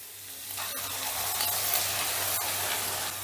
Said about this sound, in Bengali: পেঁয়াজটা একটু সফট হয়ে গেলেই দিয়ে দিচ্ছি বাটা মশলা।